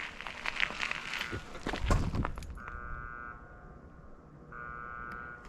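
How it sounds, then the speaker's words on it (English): An electronic warning buzzer tone sounds twice in steady bursts beside the Nipigon River, after a stretch of clattering, rumbling train noise, moderately loud against background hum. "They might be a warning buzzer there."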